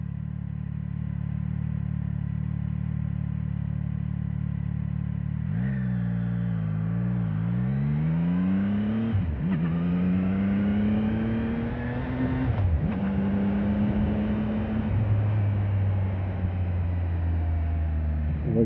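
A CFMoto 675 NK motorcycle engine idles steadily, then revs in several rising and falling sweeps. It is close and loud, with no talking.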